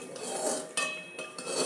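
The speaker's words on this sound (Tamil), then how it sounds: "கிளறி கொடுத்துட்டே இருக்கணும்" A spoon stirring sweet pongal of rice and jaggery boiling in a pot, with close scraping and clinking strokes in short bursts and no voices.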